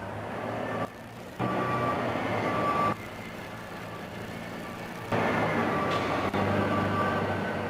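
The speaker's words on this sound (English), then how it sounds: "Giant trucks, each weighing more than 100 tons, flatten what was once a pristine landscape." Giant mining trucks weighing over 100 tons at an open-cut mine in New Guinea, their reversing alarms beeping steadily over a loud, continuous diesel engine drone, with the engine noise surging and dropping as the trucks move.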